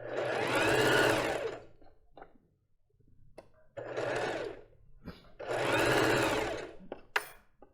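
A sewing machine runs straight stitches around a lace bra in several short bursts, the stitching loud and close, with clicks and handling noises in the gaps between bursts.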